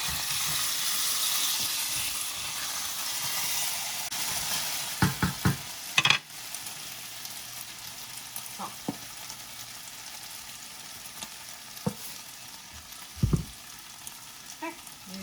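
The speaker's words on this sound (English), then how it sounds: "we're just going to let them sit and cook in the oil" Potatoes fry in hot oil with a continuous, even sizzle and hiss, broken by a few close clatters and knocks from a pan or utensil as the breakfast cooks.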